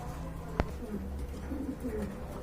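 A pair of pigeons gives soft, low cooing close by, a short murmuring coo beneath a sharp click, in a quiet setting.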